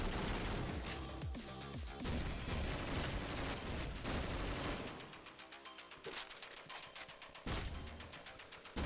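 Rapid gunfire bursts in the top-down shooter video game OTXO crackle in dense, loud fusillades that break off into short pauses, then resume with clustered shots and mechanical clicks.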